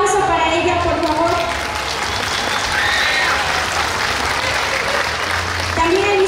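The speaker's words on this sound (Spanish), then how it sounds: "Un aplauso para ella, por favor." An audience at an award ceremony for a goat broth contest claps steadily and loudly for a woman serving as judge, with a voice speaking over the start and end of the applause.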